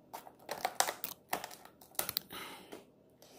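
Cardboard packaging for a Gamo PR-776 .177 pellet airgun revolver is cut along its crease, giving a string of close, crisp scraping and crackling bursts with short pauses, and no talk.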